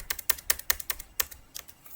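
Fast, close keystrokes on a computer keyboard as a command is typed, a quick irregular burst of about a dozen crisp clicks.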